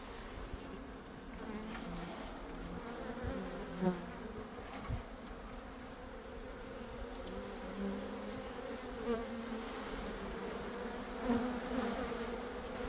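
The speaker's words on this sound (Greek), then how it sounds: "Με πολλή αγάπη άρχισα να μαζεύω τις μέλισσες και να τις βάζω πολύ προσεκτικά στην κυψέλη." A swarm of honey bees is gathered by hand into a hive, a dense, continuous buzzing hum of many insects close by, with individual bees droning louder as they pass near.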